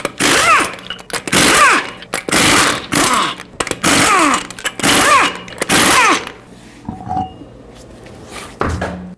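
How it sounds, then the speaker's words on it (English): A power impact wrench with a 21mm socket spins off the six lug nuts of a 2015-2020 Ford F-150 front wheel in a series of loud, close, whirring rattling bursts, then falls quieter near the end. "use a 21mm socket, remove all 6 lug nuts, and then remove the wheel"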